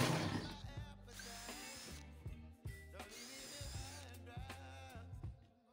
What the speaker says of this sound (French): je perce un petit peu